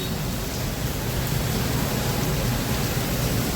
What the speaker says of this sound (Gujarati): પાંચ વાગ્યાનો વરસાદ ચાલુ છે અત્યારે.